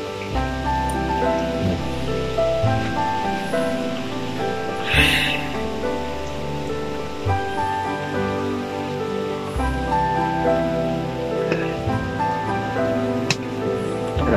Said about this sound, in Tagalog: Ding ulan ito.